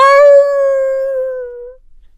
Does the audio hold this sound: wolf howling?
yes